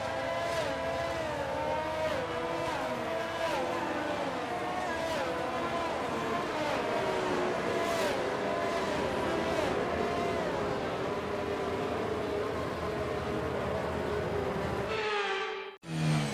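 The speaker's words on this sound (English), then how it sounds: "The formation lap is underway and the track temperature looks warm." Race car engines in the F1 23 video game drone through a formation lap with a steady, high, whining tone and slowly shifting pitch, holding at an even level before cutting off abruptly near the end.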